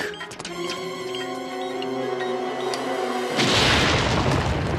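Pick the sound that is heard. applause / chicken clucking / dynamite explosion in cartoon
dynamite explosion in cartoon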